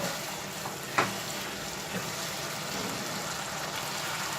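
Mushroom chilli bhaji cooks uncovered in a pan on a gas flame, giving a soft, steady sizzle with one brief clink of a utensil near the start.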